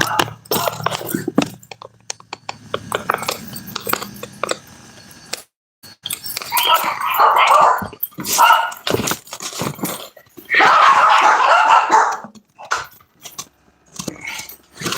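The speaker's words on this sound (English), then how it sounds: "Dogs are gonna go crazy. Here, start barking in a second." Dogs bark in loud, irregular bursts close by, with jangling and rustling noises between them.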